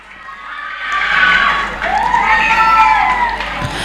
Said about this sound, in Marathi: एक टाळ्या तर नक्कीच झाल्या पाहिजे या कॅच साठी सुद्धा